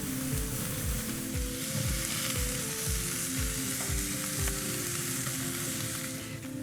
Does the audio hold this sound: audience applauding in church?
no